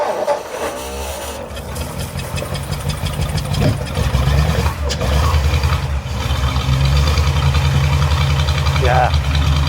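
Vintage Ford V8, sitting unused for 30 years in a barn, running again with a steady low throbbing idle and pulsing fuel beat that builds slightly louder midway, with voices talking over it.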